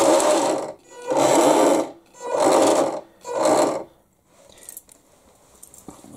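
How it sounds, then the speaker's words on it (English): Servo turning the rudder of a Heng Long Atlantic RC yacht whirs in four close, loud bursts of about a second each, then a faint quieter stretch follows. "I can see that the servo is turning anti-clockwise"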